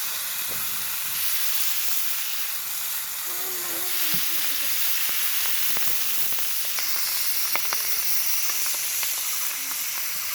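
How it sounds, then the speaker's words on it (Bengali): Pangas fish frying in hot oil gives a steady sizzling hiss throughout, with faint crackles and occasional sharper pops, recorded close with no talking. "মাছটা ভাজা হয়ে যাচ্ছে।"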